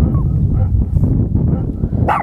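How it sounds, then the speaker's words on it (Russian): Several dogs barking together in a forest, a dense, continuous din of overlapping barks and yelps close by, loud throughout with a sharper yip near the end. "На нас бежит огромная толпа собак"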